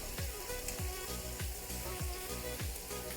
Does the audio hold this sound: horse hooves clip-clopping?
no